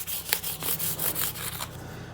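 A Telecaster guitar body is sanded with 320 grit on a sanding beam, making close, rhythmic back-and-forth rubbing strokes, each a soft rasping swish.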